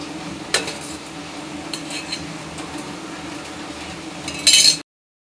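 Oil poured into a pan for tempering ridge gourd, with a sharp clank of the pan near the start, a soft steady wash of sound, then a louder burst of sizzling and metal scraping before it cuts off.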